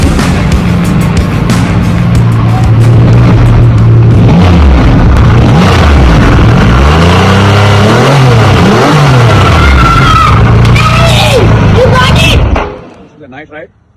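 A 2021 Triumph Rocket 3 GT motorcycle with a 2500cc engine is ridden, its loud, close engine rising and falling through several revs and gear changes before dropping away at the end.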